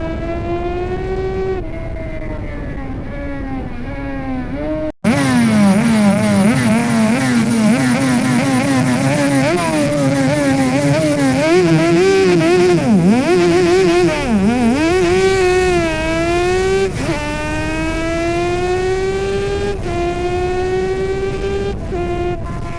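Reverse-cylinder Yamaha TZ two-stroke racing motorcycle at Snetterton circuit, a loud close high-pitched engine wail that rises and falls through gear changes, running continuously after a sharp cut at the start.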